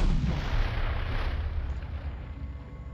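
Gunfire echoes in the Call of Cthulhu video game, a heavy booming burst that rumbles and fades over a few seconds, fairly loud, with no one speaking.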